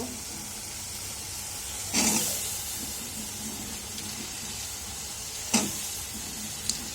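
Cut potatoes added to fried spice masala in a pan: a steady background hiss of frying, broken by a sudden louder sizzle burst, later another sharp sizzle and a faint tap near the end.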